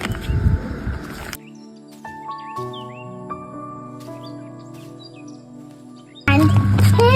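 Small birds chirp and tweet at a backyard feeder in short scattered calls over steady tonal background sounds, with louder bursts of noise at the start and end.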